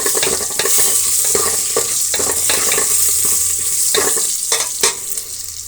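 Curry leaves and spices fry for pumpkin sambar in a hot pan, with a loud, continuous sizzle and repeated scraping stirs up close, and no voices.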